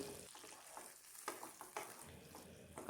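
Mashed jackfruit seed bharta with black cumin, pepper paste, turmeric and salt is stirred in a pan, a quiet, faint sizzle broken by irregular spatula scrapes and taps close by.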